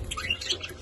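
A pet bird chirping, several quick bright tweets close by in a brief burst with a low room hum beneath.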